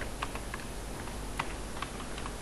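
Fingers type PHP code on a computer keyboard. The key clicks are faint and scattered, with an uneven rhythm, over a steady background hiss.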